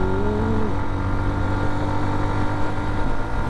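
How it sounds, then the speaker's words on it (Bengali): A Hero Xtreme 125R, a 125 cc motorcycle, revs its engine and exhaust under a light throttle pickup: a loud, steady, close-up drone with a slight rising pitch early on and no talking. "না একটু পিক আপটা দিয়ে নিই অল্প"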